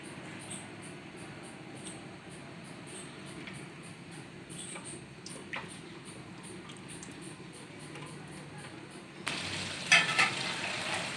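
Lasoda berries frying in half a kilo of hot mustard oil for mango pickle, a soft continuous sizzle with a few faint clicks, growing louder and more crackly near the end, no talking.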